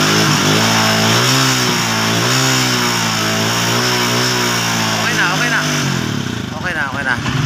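A motorcycle engine is revved hard up close, with the revs rising and falling in loud, sustained surges. Voices come in briefly near the end as the engine winds down.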